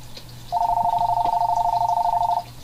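A telephone ringing from a 2009 film, one steady electronic trill lasting nearly two seconds over a quiet, murmuring background, then cutting off.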